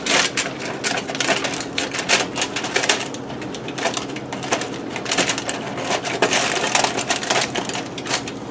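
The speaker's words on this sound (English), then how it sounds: "You're gonna lift off the aluminum foil, peeling back the skin that's attached to it." Aluminum foil lifted and peeled off roast pernil, the skin attached, making a loud close crinkling and crackling that continues with irregular bursts throughout, with no talk.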